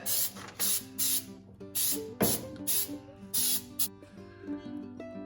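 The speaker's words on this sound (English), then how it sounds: "that's all sprayed in there" An aerosol spray can hisses in a series of short bursts while coating the inside of a 1940 Ford Tudor trunk, with a steady hum continuing underneath.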